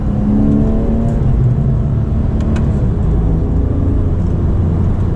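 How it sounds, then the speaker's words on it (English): Porsche 991.1 Carrera S flat-six under hard acceleration, a loud rising engine note with climbing harmonics and a dual-clutch shift, heard from inside the cabin with steady road roar underneath. "maybe one spot here we can give it the beans. And you really get a shove on the top of the RPM band."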